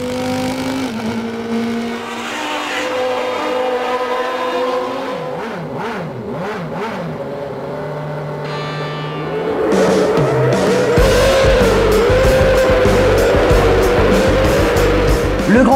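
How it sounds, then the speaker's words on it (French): Formula 1 cars from 1990 race at the San Marino Grand Prix at Imola, loud engines revving and wailing as they sweep past, pitch sliding up and down, swelling to a dense roar of several cars at once with tyre squeal. "Les bolides foncent à fond vers la Tosa"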